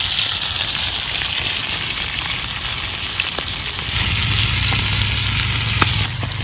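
Madhana fish frying in oil on a dosa tawa during outdoor village cooking, a steady loud sizzle and crackle that runs throughout, thickening toward the end with faint scraping clicks.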